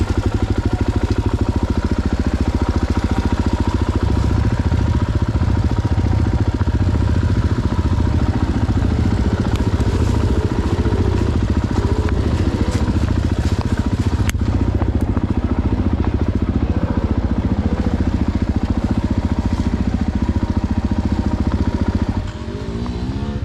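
A Husqvarna FE450 motorcycle engine runs steadily for the whole stretch, a continuous rumbling drone with some clatter, close and fairly loud, easing off briefly near the end.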